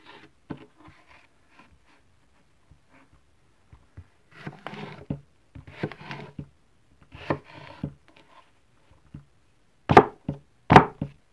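A Nedfoss folding cleaver knife chops on a board, giving scattered soft knocks and scrapes that build to two loud, sharp chops near the end, close by.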